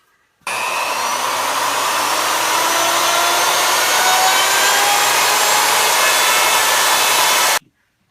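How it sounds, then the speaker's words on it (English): A router fitted with a straight bit hogs waste out of wood for a cutting board, giving a loud, steady, high whining roar that runs unbroken for about seven seconds with no talk. "Now I'm going to use my router with a straight bit to hog up most of the waste"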